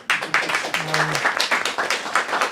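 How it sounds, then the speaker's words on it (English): A crowd's round of applause for presenters at a public health masterclass, a dense, close wash of many hands clapping continuously, with a voice briefly audible underneath. "if you can help me with a big round of applause to our presenters"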